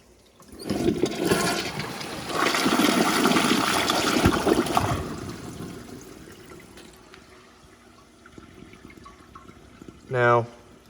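Water from an overflowing American Standard Champion 4 Max toilet gushes and splashes onto the floor, a loud broad rush for several seconds that fades to a quieter trickle, with a brief voice near the end.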